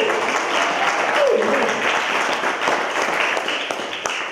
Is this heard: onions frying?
no